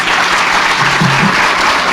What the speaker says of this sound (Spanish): Un aplauso a la maestra Paulina Grobet